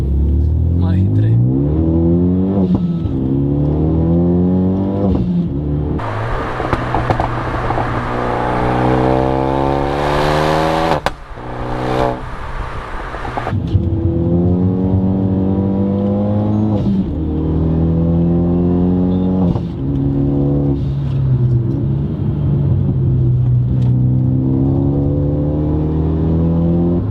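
A Renault Megane RS RB7 accelerates hard on an ordinary road, its engine rising through the revs in repeated sweeping pulls with gear changes between, loud and close inside the cabin.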